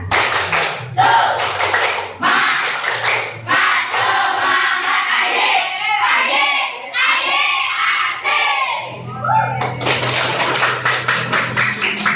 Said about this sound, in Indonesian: Mau tepuk semangat kan?